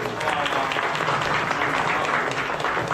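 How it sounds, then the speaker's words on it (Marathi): A kirtan audience breaks into sustained, dense applause for the two accompanists at an Ashadhi Ekadashi celebration, an even wash of clapping throughout. "त्याबद्दल या दोन्ही साथीदारांसाठी जोरदार टाळ्या झाल्या पाहिजे"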